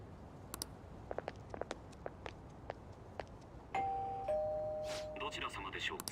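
A doorbell rings in the video game Persona 5 Royal as a clear two-tone chime that follows soft patter and footsteps, with game speech and effects sounding around it.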